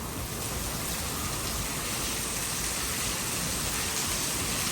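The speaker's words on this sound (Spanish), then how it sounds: "Pero está lloviendo poquitito," Light rain falls steadily outdoors in Singapore, a continuous, even hiss of drops with no breaks or other sounds standing out.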